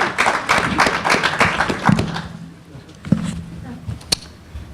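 A burst of audience clapping quickly fades away, then a few scattered taps follow as a voice speaks.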